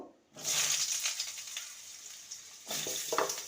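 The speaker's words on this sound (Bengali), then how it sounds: "কড়াইতে সর্ষের তেল দিয়ে দিয়েছি প্রথমে আলুগুলো ভেজে নেব" Potatoes sizzle loudly in hot mustard oil in a kadai close by, the frying briefly easing off before swelling again as they are stirred around the pan.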